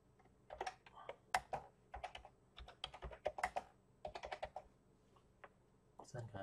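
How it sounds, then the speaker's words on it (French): Rapid, close keystrokes of text being typed on a computer keyboard, a busy run of clicks with brief pauses over a faint background hum. "Je vais taper un texte."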